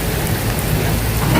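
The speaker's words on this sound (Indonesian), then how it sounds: "di Kali Baru Taman Bekasi hujan deras" Heavy rain pours steadily over Kali Baru in Tambun, Bekasi, a loud, dense and continuous hiss of downpour close by, with a low rumble underneath and no voices.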